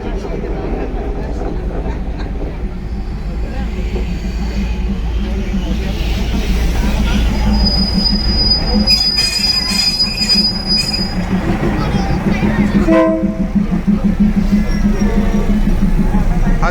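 A train rolls slowly through the Maeklong railway market, its wheels squealing loudly over a steady low rumble, with crowd voices murmuring faintly beneath the constant metallic noise.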